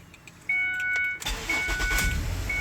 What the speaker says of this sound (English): it seems a little bit louder than what it was previously, but it is cranking up